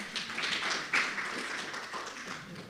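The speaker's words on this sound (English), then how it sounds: "I didn't even have to do anything and I got a round of applause" A lecture audience claps briefly on request, a soft scattered round of applause heard from a distance that fades out over a couple of seconds.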